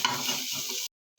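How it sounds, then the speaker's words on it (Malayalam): Vegetable vermicelli stirred in a pot, a close, steady scraping hiss with soft clattering for most of a second, then a brief silence before the stirring resumes. "ഇനി നമുക്ക് എല്ലാം കൂടി ഒന്നിച്ച് മിക്സ് ചെയ്യാം കേട്ടോ"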